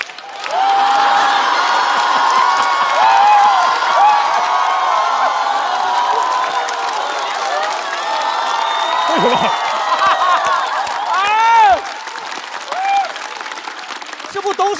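Sustained applause and cheering from a stand-up comedy audience fill the room loudly for about twelve seconds, with whoops and shouts over the clapping, then the noise drops to a lighter patter; a performer's voice cuts through near the end.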